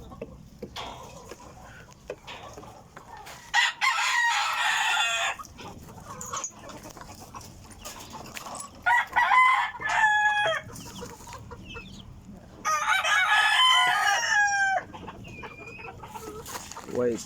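A golden sweater gamefowl rooster crows several times in a backyard, loud and close, in two long bursts with clucking and other fowl noises between them, and a person speaks faintly in the background.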